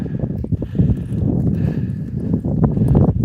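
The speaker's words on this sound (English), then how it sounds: "someone to be riding a horse around out here at night" Horse hooves clip-clop in a steady walking rhythm on hard ground outdoors at night, close and fairly loud, with faint wind in the background.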